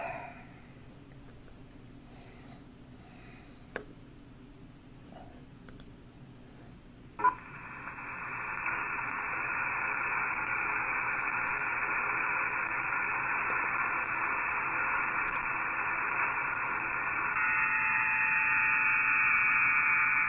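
AM broadcast station from Switzerland received through an internet-linked radio receiver. A hiss of static comes in suddenly after some quiet background with faint clicks, then holds as a loud, steady wash of noise to the end, with no talking.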